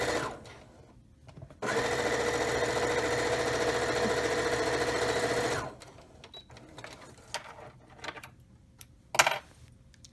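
Close up, a sewing machine runs a continuous straight stitch through apron fabric for about four seconds, a steady whirring drone, then stops, followed by quieter clicks and handling sounds without speech.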